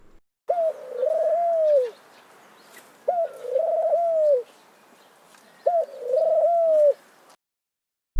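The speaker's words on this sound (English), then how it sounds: "The pigeon coos." A pigeon coos three times, each a soft, low, rolling phrase lasting about a second and a half, spaced evenly with quiet pauses between, heard clearly and alone.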